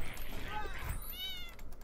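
Cats meowing in the video game Fowl Space, with a couple of short rising and falling meows over a steady bed of game noise and background sound.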